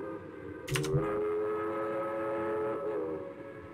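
A train in the video game Railroad Tycoon Deluxe sounds a short whistle blast over a steady rumbling rail drone that continues underneath, moderately loud and without talk.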